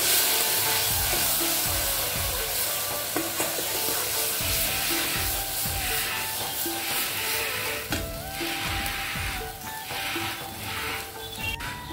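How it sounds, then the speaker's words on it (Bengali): Mustard and green chili paste sautéing in a pan for a spicy mustard chapila fish curry, a steady close sizzle with stirring scrapes throughout, no talking. "ভালো করে মশলাটা কষায় নিব।"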